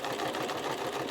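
A sewing machine runs in one continuous quick burst, its needle chattering in a fast even rhythm while stitching zigzag and straight lines on a journal cover made from a vintage sewing pattern.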